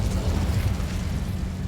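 Incendio fire spell cast in Hogwarts Legacy, a dense, rumbling roar of flame that holds loud and steady throughout.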